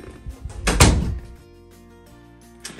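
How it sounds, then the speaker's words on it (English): A door is shut with a single solid thunk, close and fairly loud, followed by a quiet room with a faint knock near the end. "So let's shut the door."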